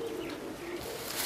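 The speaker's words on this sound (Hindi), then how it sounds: "ये रुस्तम कबूतर हमारा" Soft cooing from a high-flying pigeon, a low murmuring coo repeated over a steady background hum, close by and fairly quiet.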